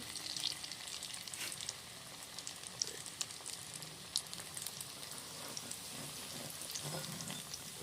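A sandwich fries slowly in oil over low heat, giving a steady, quiet sizzle with soft crackles and pops throughout.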